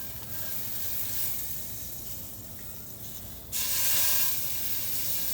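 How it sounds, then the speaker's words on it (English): Smash burger patty frying in butter in a cast iron pan on a stovetop: a steady, close hiss and crackle that suddenly swells louder near the end, with no voices. "you hear that sizzle? So that's a good sign."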